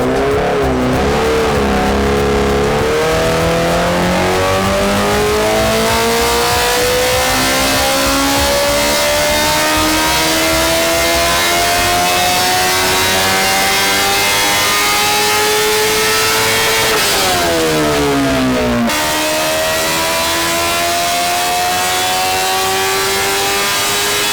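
A motorbike engine on a dyno rises in a long, loud, steady rev climb. It drops back briefly, then climbs again, and the harmonics sweep smoothly upward.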